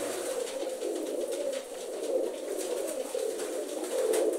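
Bijeljina tumbler pigeons coo in a soft, continuous murmur, with several birds overlapping at a moderate distance against a hissy background.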